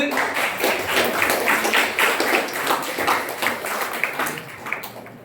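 Audience applause at a Tamil lecture on modern poetry theory, a dense crackle of many hands clapping steadily throughout, moderately loud and filling the hall, fading slightly toward the end.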